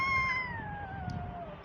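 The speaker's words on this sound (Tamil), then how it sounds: "இப்போ நான் ஒரு பூனை சவுண்டு கேட்கும் பாருங்க." A cat in a 3D block-crafting game gives one drawn-out meow that slides downward in pitch, clear and alone over faint background noise.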